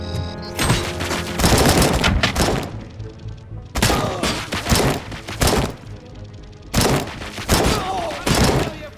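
Heavy gunfire in the RoboCop: Rogue City game, three long bursts of rapid loud shots with booming impacts separated by short pauses, filling the scene at close range.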